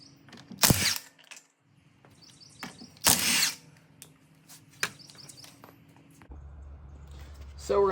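A power drill bores holes in a C8 Corvette bumper in two short, loud, close bursts, with scattered clicks of tool handling and faint bird chirps behind.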